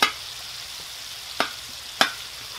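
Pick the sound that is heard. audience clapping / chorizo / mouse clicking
chorizo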